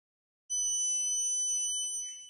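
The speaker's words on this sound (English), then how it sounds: "you heard the beeper there. It was beeping." After a moment of silence, an MQ-series air quality sensor's shrill electronic alarm sounds steadily for about two seconds, piercing and high-pitched, before slightly fading.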